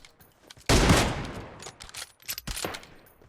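Gunfire in PUBG Mobile: a loud close burst of automatic fire followed by scattered quieter shots, with a brief voice in the background.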